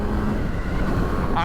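Steady engine drone with wind rush from a new sport motorcycle on a break-in ride, continuous and fairly loud throughout, with no voice over it.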